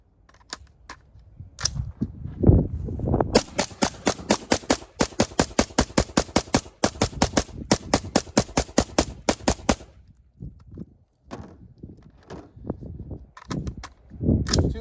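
Rapid suppressed gunfire through an Otter Creek Labs Polonium K suppressor, long strings of fast, even, sharp cracks fired in bursts with short pauses, loud and close, then a few scattered single shots.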